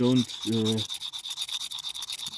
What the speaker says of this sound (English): grind from the back of the knife